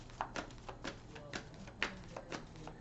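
Tarot cards being shuffled by hand, a run of soft riffling flutters and light snaps repeating in quick, uneven bursts, close and quiet with no talking.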